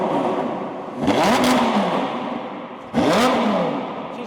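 A cold Lamborghini engine, fitted with an aftermarket exhaust, rises in two sharp revs over a rough, steady idle, each blip climbing and then falling away, loud and close.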